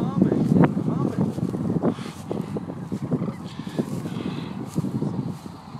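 Many sandhill cranes honk and call at once during migration in Nebraska, overlapping in a busy, steady chorus out in the open.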